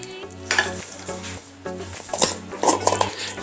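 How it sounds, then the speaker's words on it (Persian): Chicken being stirred with saffron in a hot pan, with scraping spoon strokes and soft sizzling in an irregular rhythm, close up, no talking. "حسابی زیروش کنید تا کاملا رنگ زعفرون به همه جای مرغتون بشینه."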